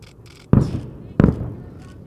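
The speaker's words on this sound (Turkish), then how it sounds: "Evet, hedefler infilak etti." Two deep, distant booms about a second apart as military targets explode during a winter exercise, each a low thud that rolls and fades over quiet background rumble.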